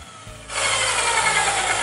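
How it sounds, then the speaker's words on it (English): An abrasive cut-off saw grinds into hex steel stock clamped in a vise while the stock is slowly twisted; after a quiet start, a loud, harsh, steady hiss of the wheel biting the metal takes over and continues. "Now I'm going to cut just about a third of the way into this, and I'm going to just start slowly twisting the stock in the vise."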